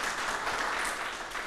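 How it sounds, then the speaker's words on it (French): Audience applause at a youth event in the Plateau commune, a dense steady wash of many hands clapping throughout, moderately loud with no voices. "On peut l'applaudir aussi très très fort."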